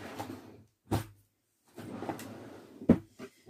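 Drawers are pulled open and pushed shut during a search, giving sharp close knocks and sliding rumbles separated by short pauses, with no talking.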